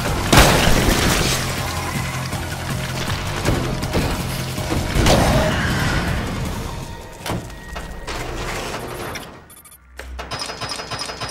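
A dynamite blast in the zombie shooter Dead Nation, a loud booming explosion that rolls on with crashing debris and game noise for several seconds before fading into quieter rumble.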